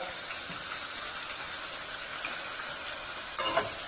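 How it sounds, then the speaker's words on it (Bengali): Bhetki fish bones frying in a pan for a Bengali chochchori, a steady broadband sizzle with faint stirring, a brief louder scrape near the end, no talk. "এটা খালি এখন একটু ভেজে নিতে হবে"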